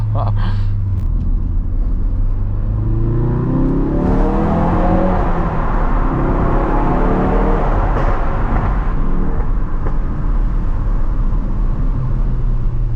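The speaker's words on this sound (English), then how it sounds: "For a stock exhaust it sounds quite nice, especially on the tunnels." A stock-exhaust Ford Focus RS revs and accelerates through a tunnel, its loud booming engine note rising and falling with gear changes and echoing off the walls, with a voice talking over it.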